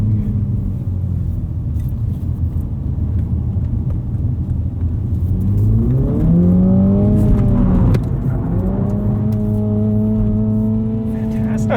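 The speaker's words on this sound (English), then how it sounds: "That's some first handbrake turn." A 2021 Mini Cooper JCW GP pulls a handbrake turn, its engine droning low and loud, then sweeping up and down in pitch as revs rise and fall through the slide, heard from inside the car.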